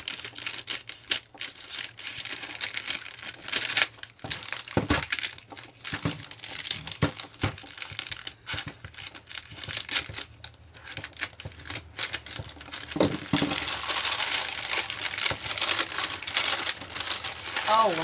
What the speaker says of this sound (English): let's see if I can get in here without doing too much damage to the paper